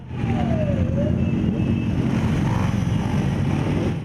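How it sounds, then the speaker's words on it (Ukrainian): A column of motorcycles rides through city neighbourhoods with a police and ambulance escort, a steady loud engine roar rumbling throughout, with a passing vehicle tone sweeping briefly near the start. "колона байкерів проїхала по різним мікрорайонам міста"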